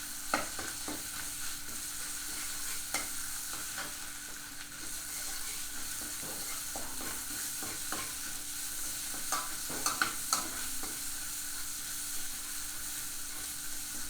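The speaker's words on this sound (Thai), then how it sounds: "ผัดให้เขาหอมก่อนนะครับ" Curry paste stir-fried in lard in a pan for Northern Thai nam prik ong, a steady sizzle broken by repeated scraping strokes of a spatula, close and continuous with no talking.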